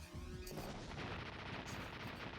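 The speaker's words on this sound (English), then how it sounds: "And I'll get some lengthy explosions, and Zero will appear." Boss explosions in the video game Mega Man X6, a continuous rapid barrage of booming blasts that starts abruptly and keeps rattling on steadily, loud and alone without talk.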